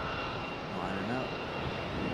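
Steady jet roar from a JetBlue Airbus A220 airliner lining up on the runway at Raleigh-Durham airport, broad and constant, with faint talk running underneath.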